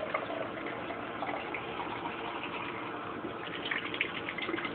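Tap water runs steadily into a cup in a home kitchen, a continuous close splashing gush with small fluctuations as it fills, no talking.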